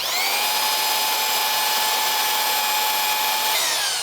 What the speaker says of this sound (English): Let me drill 2 holes right here for you.